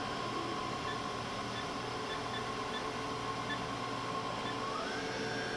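A Haas VF4 vertical machining center spindle turns at 2000 RPM in high gear, giving a steady mechanical hum with a sustained whine that rises in pitch near the end, with no voices.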